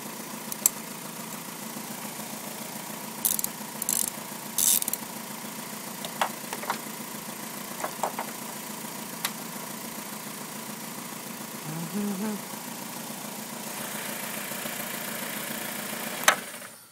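A car engine idles steadily with the negative battery terminal disconnected to test a bad alternator, a low constant hum with a few light clicks before it cuts out near the end.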